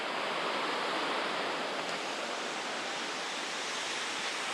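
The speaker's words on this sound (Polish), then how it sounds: "Jesteśmy przy wodospadzie" A waterfall in Japan roars as a loud, steady broadband rush of falling water, continuous and unbroken throughout, with no voices over it.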